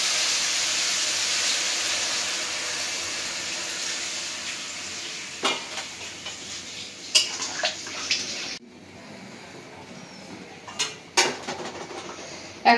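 Water hits a sautéed small-fish chorchori in a pot, throwing up a loud broad steaming hiss that fades, followed by sporadic clanks of utensil against the pot.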